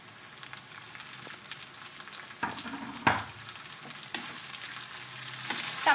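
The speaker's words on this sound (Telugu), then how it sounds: "ఇప్పుడు ఆనియన్స్ ఫ్రై అయ్యాయి కదా, దీనిలోకి టమాటోస్ యాడ్ చేస్తున్నా" Tomatoes frying in a pan with onions and curry leaves: a soft, steady sizzle with occasional scrapes and clinks from stirring, fairly quiet and with no talk.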